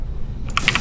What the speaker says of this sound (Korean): 키보드 ASMR 잠시 할게요.